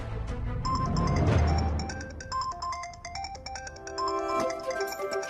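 A mobile phone ringtone plays a bright, melodic run of electronic tones that repeats in short phrases over a dense background, with no speech.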